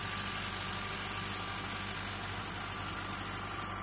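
A tractor engine runs steadily nearby in a field being prepared for planting sugarcane, a continuous low drone with no talk.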